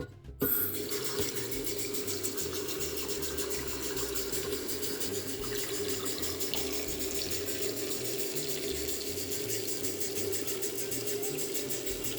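Tap water runs steadily into a large cooking pot holding beets, a continuous close splashing rush that stays even from start to finish with no talk.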